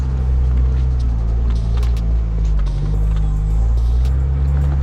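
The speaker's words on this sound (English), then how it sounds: "I need to gear down for that little oasis of sand." A Jeep engine drones low and steady while gearing down to cross a patch of sand on a Pine Barrens trail, loud and close, with faint rattles over the rumble.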